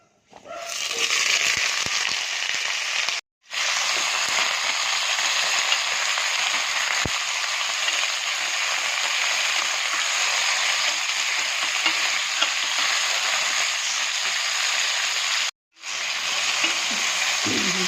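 Chopped potatoes, tomatoes and carrots frying in hot oil with red-browned whole spices in a pan, a loud, continuous crackling sizzle broken only by two brief cuts.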